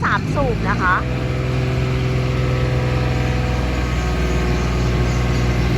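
The three-cylinder Yanmar diesel engine of a 1.5-ton Ammann road roller runs at a steady, rumbling idle, loud and close, with a few faint voice-like chirps at the start.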